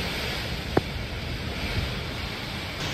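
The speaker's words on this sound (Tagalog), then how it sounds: "Tapos talagang lakas ng hangin." Strong typhoon wind from Typhoon Uwan blowing past a doorway, a steady loud broadband roar with gusty texture and a single brief knock near the start, no voices.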